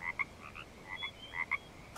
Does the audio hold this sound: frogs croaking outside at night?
yes